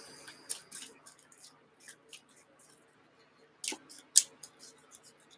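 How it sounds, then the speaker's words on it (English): Sleeved playing cards being shuffled by hand during a tabletop hockey game, producing soft scattered riffles and slippery flicks, quiet and close, with a couple of sharper card snaps near the end. "And I take this one and that one and shuffle these in."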